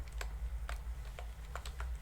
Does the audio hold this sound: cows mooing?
no